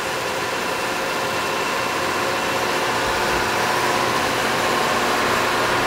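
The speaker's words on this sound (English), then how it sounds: "It's a really smooth, quiet, low vibration saw." Steady, even hum of a Northfield 36-inch direct drive bandsaw running idle, a smooth, quiet, low-vibration machine, continuous and close with no cutting.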